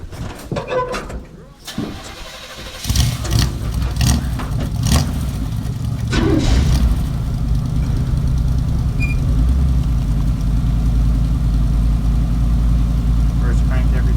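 The engine of a chopped, channeled and lowered 1950 Dodge B2B rat rod truck cranks, catches and settles into a loud, steady, close rumbling idle, with people talking briefly over the start.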